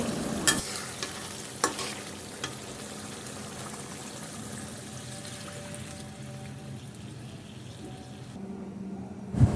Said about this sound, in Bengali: তরকারি ঝোলের জন্য যতটুকু প্রয়োজন আমরা পানি দিয়ে দিব।